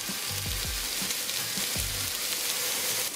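Curry leaves and grated ginger sizzling in a pot for curry lamb, a steady dense crackle up close, with a few low scraping strokes early on and no voices.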